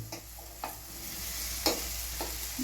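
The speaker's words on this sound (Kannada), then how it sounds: "ಬಟಾಟೆ ಹಾಕಿ ಸ್ವಲ್ಪ ಚೆನ್ನಾಗಿ ಕಾಯಿಸ್ಕೊತೀನಿ" Potatoes frying in a pan for aloo rassa bhaji give a steady low sizzle, with a few soft stirring scrapes spaced through the short stretch and no talking.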